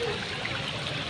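Strong floodwater current from Typhoon Carina rushes through flooded streets in Mandaluyong, a steady, dense roar of churning water with no voices.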